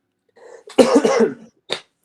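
A single harsh, close cough followed by a brief second rasp, loud against near silence.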